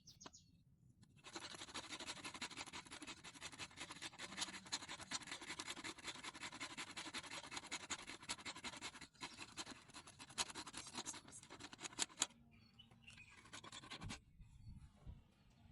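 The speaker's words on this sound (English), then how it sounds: "So I'm going to be taking my cassava roots and I'll grate them into smaller particles" Cassava roots are grated by hand into small particles, a dense, steady rasping scrape that runs continuously for many seconds, close and fairly quiet, then stops abruptly near the end.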